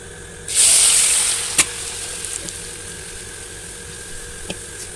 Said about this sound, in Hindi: यहाँ पे हमारा ऑयल गरम हो चुका है। अब हम इसमें चिप्स डालेंगे अपने।